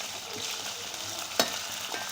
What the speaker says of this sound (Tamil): ஒரு டைம் நல்லா கிண்டி கொடுத்துக்கோங்க